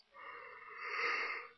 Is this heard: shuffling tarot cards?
no